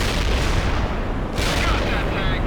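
In the World in Conflict video game, a Bradley vehicle returns fire amid a dense, loud battle din of booms and rolling gunfire that never lets up, with a sharper blast near the midpoint.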